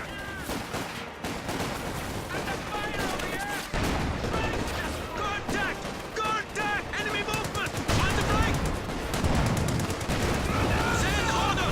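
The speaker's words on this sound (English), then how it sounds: "Taking infantry fire!" Infantry rifle and machine-gun fire crackles through a video game battle, dense rapid bursts layered beneath steady commentator talk throughout.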